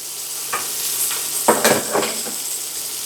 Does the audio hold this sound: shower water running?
no